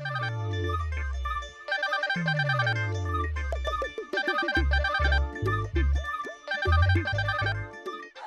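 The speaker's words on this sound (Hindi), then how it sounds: "हाय रब्बा, कहाँ गया मेरा मोबाइल फोन? It's ringing." A mobile phone ringtone plays a bright, repeating electronic melody with sweeping bass tones and bouncing chime notes, loud and continuous throughout with no talk.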